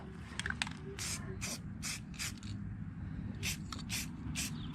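Black spray paint hissing onto a Jeep JKU bumper in short repeated bursts of about half a second each, close and fairly quiet, with a low background rumble and no talk over the spraying.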